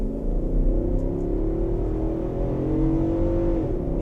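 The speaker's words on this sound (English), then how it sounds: "if you put your foot down, it reacts really well" A 2025 Nissan Patrol Ti V8 accelerates hard. Its engine gives a steady, loud drone with rising harmonic tones through the full stretch, with no talking.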